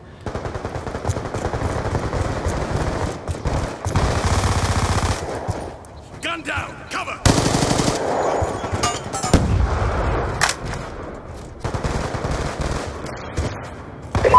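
Rapid automatic gunfire and bursts of shots from a capture-the-flag video game match, loud and nearly continuous with brief pauses, dense crackling volleys filling the whole stretch.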